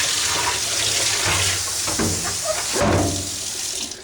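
Water splashes and pours in a bucket as dyed jeans are rinsed, a steady hiss-like rush with a few brief sloshing surges partway through.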